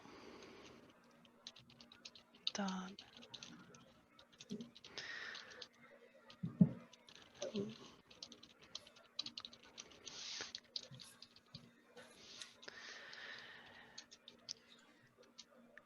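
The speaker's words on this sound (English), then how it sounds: "And I'm typing it now" Quick irregular keystrokes patter on a computer keyboard, faint and close, in short bursts with pauses, a brief spoken word heard partway through.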